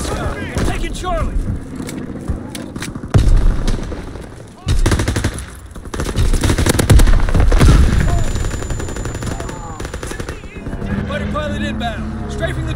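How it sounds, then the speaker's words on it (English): Loud, sustained machine-gun fire and booms from a fighter plane's strafing run in a video game, with dense rapid bursts and brief lulls, while people talk over the gunfire. "Fighter pilot ready for strafing run."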